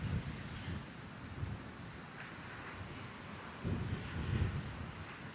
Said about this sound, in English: There's no better test of the wind for this fluffy thing than this happening right now.